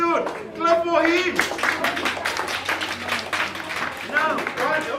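Audience at a business opportunity presentation clapping for a team member who stands, scattered claps of moderate loudness mixed with a talking voice over the top.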